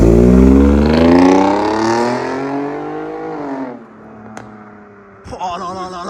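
A tuned Mercedes C350 V6 coupé, modified to 306 hp, roars loudly and close as it accelerates to heat its tyres, its pitch climbing before easing off, followed by a sharp click and a short rumble.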